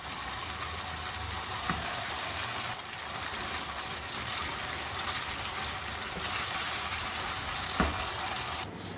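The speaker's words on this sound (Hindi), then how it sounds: "अब ये जो बीफ मैंने मैरिनेट करके बॉईल करके रखा है ये इसमें डाल रही हूँ" Marinated, boiled beef with its masala tipped into a hot karahi, giving a loud, steady sizzle and hiss that swells briefly and carries on evenly throughout.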